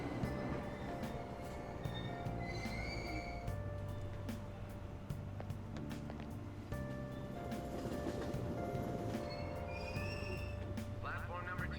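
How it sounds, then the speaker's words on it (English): Ambient train ride in the video game Persona 5 Royal: a steady, loud rumble of rolling rail cars with faint squeals and hiss throughout, continuous with no spoken words. "I have to ride the train."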